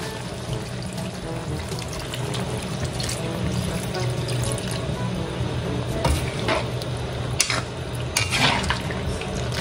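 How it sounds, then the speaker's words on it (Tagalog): Coconut cream pours into a cooking pot of squid ginataan with kamias and katmon, a continuous wet splashing and bubbling sizzle with occasional clinks of utensils against the pot. "Ito pong ating kakanggata ay ibubuhos ko na po dito."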